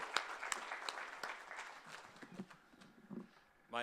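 Scattered applause from a leadership conference audience, individual claps spaced apart and thinning out, fairly quiet and distant, with a few voices murmuring near the end.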